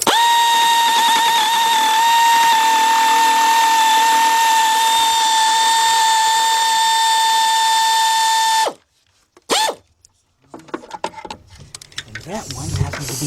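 Pneumatic air tool spinning on a bolt of a Chrysler-family car engine during timing belt work: a loud, steady high-pitched whine held for about nine seconds, then cut off, followed by metallic clanks and shop handling noise.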